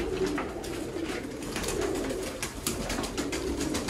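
Pigeons coo steadily in a loft holding about 120 birds, a dense chorus of soft, overlapping throaty calls with wing flutters and rustling throughout, no voices.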